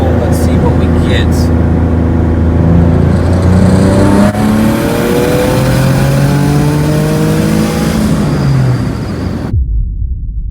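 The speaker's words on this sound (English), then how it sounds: "Take a moment to appreciate how freaking amazing this car sounds." Turbocharged Hyundai Genesis Coupe 3.8 V6 engine revving repeatedly, its pitch climbing and falling in loud sweeping pulls over a deep rumble, close to the car, cutting off abruptly near the end.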